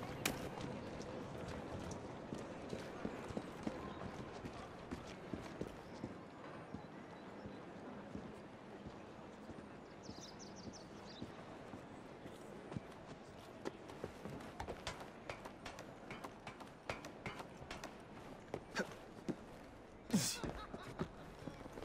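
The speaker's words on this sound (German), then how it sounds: "Wer ist ein gutes Pferdchen? Du bist das." Horse hooves clip-clop along a street in the Victorian London of Assassin's Creed Syndicate, a quick steady run of faint hoofbeats under low ambient noise, with a few sharper knocks near the end.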